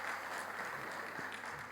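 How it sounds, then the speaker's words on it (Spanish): Steady applause from an audience at a parenting training session, the third and final day, held as a dense, even wash of clapping at low volume throughout with no pauses. "Eso merece un aplauso"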